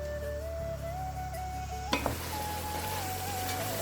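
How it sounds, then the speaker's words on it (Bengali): Cauliflower sautéing in a hot pan, a steady close sizzle with a faint background whine and a couple of brief clatters from stirring midway. "একটু ফুলকপিগুলো কষিয়ে নিচ্ছি"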